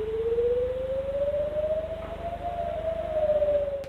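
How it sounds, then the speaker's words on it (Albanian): An air raid warning siren wails across a populated area in Israel, a single long rising and slowly falling tone held steady and loud throughout, with a faint low hum beneath. "nxitur lëshimin e sirenave paralajmëruese për sulme ajrore në shumicën e pjesëve të banuara në Izrael"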